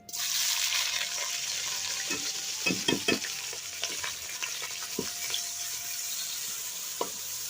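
Onion frying in a pan in a village kitchen, a continuous bright sizzle with scattered stirring clinks and scrapes, close and fairly quiet, no voices.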